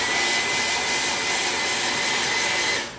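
Hair dryer blowing over freshly stencilled paint on an autumn leaves and pumpkins stencil project: a loud, steady, close rushing whoosh held throughout, cutting off just at the end.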